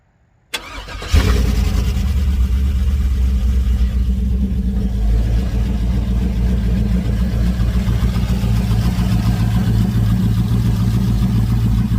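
A 6.0 LS swap engine in a 1979 G-body car cranks briefly, then catches and settles into a loud, steady, rumbling idle that holds for the rest of the clip.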